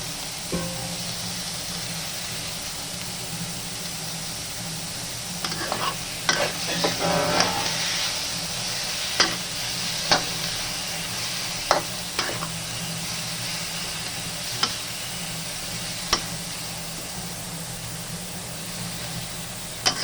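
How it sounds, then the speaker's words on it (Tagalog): Pork meat frying in a pan while being stirred, a continuous sizzle with scattered scraping clicks from the utensil against the pan, close and moderately loud. "So, lulutuin lang natin yung karne ng pork, meat, pork."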